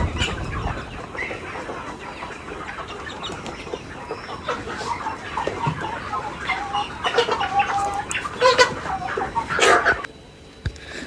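Chickens on a poultry farm cluck and squawk in a dense, busy chorus that swells toward the end, with a few louder nearby calls standing out from the crowd.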